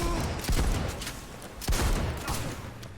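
A shotgun fires in Cyberpunk 2077, with two loud, close blasts about a second apart followed by a fainter third, each with a short rumbling tail amid game ambience.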